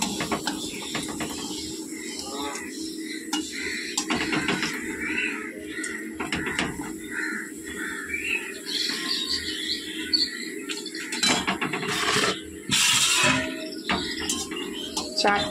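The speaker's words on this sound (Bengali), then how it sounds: "চাটনি দিয়ে খাওয়া হবে বলে পাঁপড় ভাজা হচ্ছে" Papad crackles and bubbles in hot oil in a home kitchen with irregular popping, chirpy sputters and a crisp fizz, rising to a denser burst near the end.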